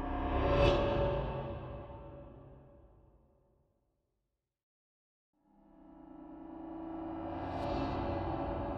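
A reversed percussion hit soaked in reverb inside Kontakt swells from silence up to a sudden cutoff, twice, with a quiet gap between the two loud, airy swells.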